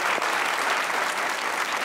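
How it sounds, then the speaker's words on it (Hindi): A TV comedy talk show studio audience bursts into steady, full applause, a bright wash of many hands clapping together at close range throughout. "सही बात है बेटा, तालियां बजा लो"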